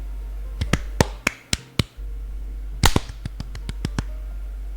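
Sharp claps ring out in two bursts, about five then about seven quick, crisp strikes, near and loud over a low steady hum.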